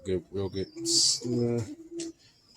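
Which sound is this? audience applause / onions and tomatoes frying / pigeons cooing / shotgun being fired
pigeons cooing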